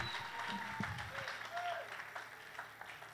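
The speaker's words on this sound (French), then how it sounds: "Applaudissez pour la gloire de Dieu." Congregation applauding during a church service, steady clapping of moderate loudness with faint voices and tonal sounds mixed underneath.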